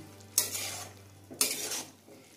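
Spices sautéing in mustard oil for a prawn and bottle gourd curry, with two distinct scraping stirs of a spatula in the pan over a soft sizzle and a low background hum, close and without talk.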